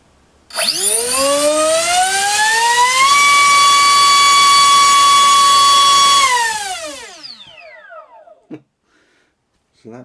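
RC motor on a 4-cell pack spinning a 4.75x4.75 TGS propeller on a thrust test stand, loud rising whine that climbs, holds steady for a few seconds, then winds down, with a short click afterward.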